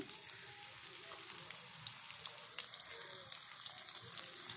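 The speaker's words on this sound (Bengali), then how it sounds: "তেল তো গরম হয়ে এসে গিয়েছে। তো এই পর্যায়ে আমি পেঁয়াজ কুচি দিয়ে দেব" Chopped onion frying in hot mustard oil with cumin seeds in a wok, a steady dense sizzle filling the whole stretch with faint crackles, continuous and fairly close.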